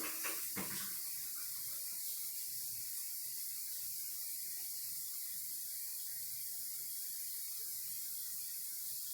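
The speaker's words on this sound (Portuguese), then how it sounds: "Aguardem um momento que eu vou aqui lavar a mão e já volto." Water running from a tap while hands are washed, a steady hissing splash that carries on evenly and fairly close, alone without voices.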